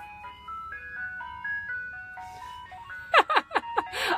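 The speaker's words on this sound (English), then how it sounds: "Can you hear the ice cream truck? I think it's gonna come right down my street." Ice cream truck on a suburban street playing its chiming jingle, a thin stepping melody heard from some distance, faint at first, then joined by a few sharp louder sounds near the end.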